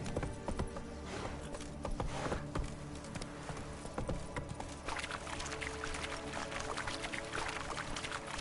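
Roach the horse gallops in The Witcher 3 video game, a steady, rhythmic clip-clop of hooves running continuously at moderate level, with no speech over it.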